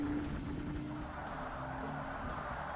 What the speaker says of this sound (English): Lots of tyre noise.